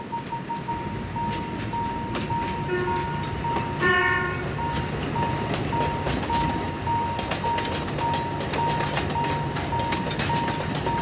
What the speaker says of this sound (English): I think a train might be coming